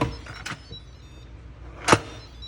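A screw-on pot lid for homemade vegetable stock locks into place with a sharp, close click near the end, after a fainter click earlier and a quiet background hum.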